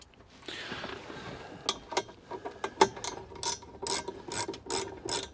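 A spanner ratchets on a bolt of a baler's bar, giving a run of sharp mechanical clicks in irregular bursts, close and moderately loud, with clanks and handling noise between them.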